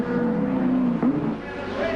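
Group A touring cars racing at Adelaide in 1989, including a Nissan, with a loud sustained engine drone and shifting pitch, close and continuous under commentary.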